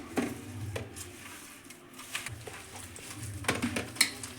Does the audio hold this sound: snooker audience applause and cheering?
no